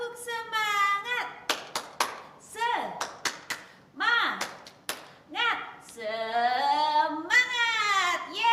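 Groups of quick, sharp claps from a children's spirit-clapping routine at a church Sunday school break up an adult's animated, chant-like talking, which stays prominent throughout.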